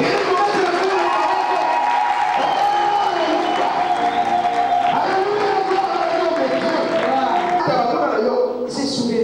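A church congregation in Kinshasa cheers and acclaims loudly during a prayer and worship service, a sustained mass of voices with whoops and shouts that stays dense throughout and cuts off abruptly near the end.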